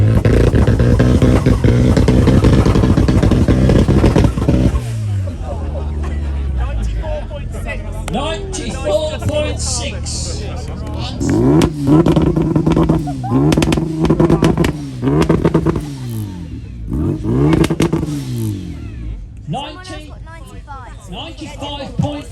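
A car with side exit exhaust at a Mini car show revs loudly near the listener, blipping repeatedly in sharp bursts after a steady opening roar, with a voice talking over part of it.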